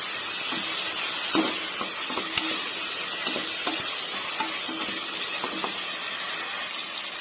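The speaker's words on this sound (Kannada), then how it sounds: "ಈರುಳ್ಳಿ ಫ್ರೈ ಆಗಲಿ." Onion frying in a pan with crushed ginger-garlic paste, a steady close sizzle and hiss running throughout, with soft stirring scrapes and clinks at irregular intervals and no voices.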